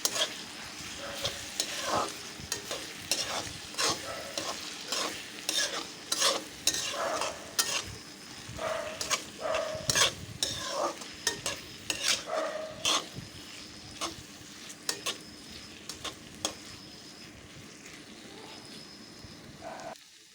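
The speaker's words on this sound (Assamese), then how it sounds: "এতিয়া এইখিনি মই ভালদৰে লৰাই দিম।" Mashed boiled potatoes for a fish curry are stirred in a sizzling pan, the spoon scraping and knocking in an uneven rhythm over a low frying hiss for a long stretch, with no speech.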